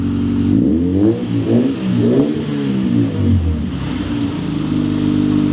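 A car engine rated at 132 horsepower catches and revs in several loud, rising and falling surges that then settle into a steady close idle.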